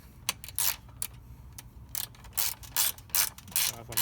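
A ratchet wrench tightens a bolt on an exhaust hanger of a CB300R motorcycle, with sharp, clicking ratchet strokes in short, irregular bursts, close and fairly quiet.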